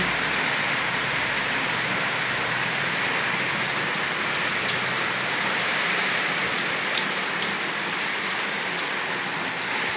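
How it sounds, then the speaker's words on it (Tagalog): Steady afternoon rain in the Philippines after several dry days, a dense even hiss of drops on surfaces with occasional slightly louder drips, no voices. "Yan, umulan din po ngayong hapon."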